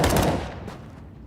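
Gunfire in Counter-Strike during a professional ESL Pro League match, a loud burst of several rapid shots in the first half-second, then fading to a low rumble.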